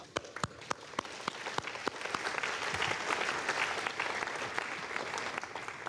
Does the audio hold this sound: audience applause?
yes